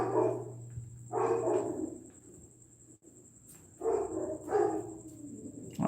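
A dog barks in bursts of two or three, somewhat distant, with a steady faint hum in the background.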